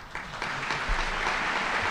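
Applause from an audience at the close of a talk at a tribunal session in New York, a dense, steady wash of many hands clapping, fairly loud and continuous throughout.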